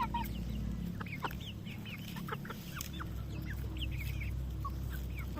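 Rhode Island Red chickens cluck and murmur in scattered short calls at close range over a steady low background hum, with no talking.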